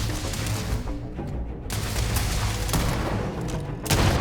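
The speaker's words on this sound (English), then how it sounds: "Who's shooting at me?" Steady bursts of game gunfire in Starfield, dense continuous shots over a low rumble of combat, loud and close throughout with a brief quieter gap midway before the firing swells again.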